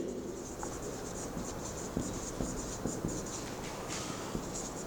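Chalk or pen writing on a board during a physics lecture on motional EMF, with soft scratchy strokes and a few light taps at an even pace, close and fairly quiet over a steady hum, with no talk.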